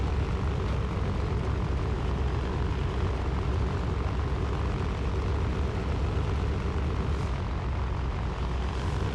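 A MiG-3 fighter plane's propeller engine drones loud and steady in a flight video game, a continuous rough roar that holds throughout without pause.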